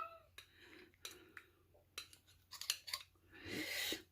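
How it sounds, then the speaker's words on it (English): A fork cutting open a boiled pelmeni beef dumpling in a small dish, a few sharp clinks and scrapes against the dish at close range, ending in a longer scraping rasp. "I'm going to cut it open with my fork"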